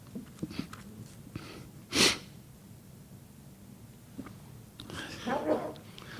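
A single sharp sneeze bursts out mid-room during an induction ceremony, loud and brief, followed by faint breathing and a murmured voice.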